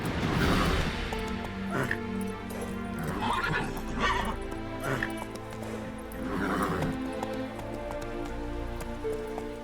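A horse in The Witcher 3 gallops with rapid hoofbeats and lets out loud neighs in bursts, set against a rain-like wash and game music, while a man urges it faster.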